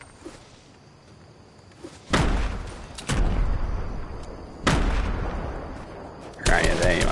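Gunfire in the Fortnite video game, several loud bursts of shots at about two, three, four and a half and six and a half seconds, heavy and close, over quiet game background between the volleys.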